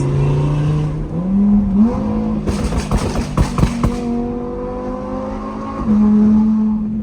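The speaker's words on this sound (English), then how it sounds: "This car is so freaking loud, bro." An Audi R8 sports car engine roars and revs loudly, climbing in pitch, with a burst of sharp crackling pops in the middle before settling into a steady drone.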